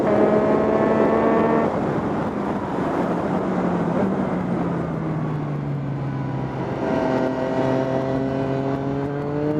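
A Yamaha MT-09 motorcycle engine drones steadily while riding, its pitch sliding down and then climbing again through gear changes, with constant rushing wind noise.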